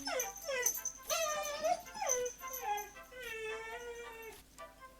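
A dog whimpers and yips in a rising and falling, drawn-out whine that is close and fairly loud. It carries on through most of the stretch, with a steady high tone faintly in the background.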